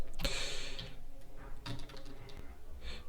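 Computer keyboard typing in a short burst of clustered keystrokes, fairly close and moderately loud, with faint room noise between presses and no talk.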